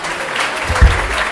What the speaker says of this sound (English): A bit of whooping, a bit of cheering.